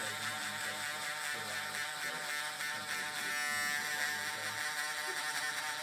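Andis foil shaver buzzing steadily through a haircut on a teenager's sides, a continuous close electric hum with a slight rise in pitch and intensity midway as it sweeps around the ear.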